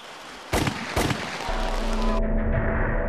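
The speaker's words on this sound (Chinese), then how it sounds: "有枪声。" Two sharp gunshot-like bangs ring out close together at a campaign event in Tainan, followed by a steady hum of crowd noise and a loud rumbling background.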